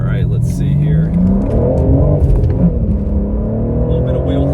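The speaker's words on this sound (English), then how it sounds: "Overall, the exhaust sounds good." A 2022 BMW M3 G80 with a six-speed manual accelerates, its exhaust a loud, rising engine drone that climbs steadily in pitch, heard from inside the car with some talking over it.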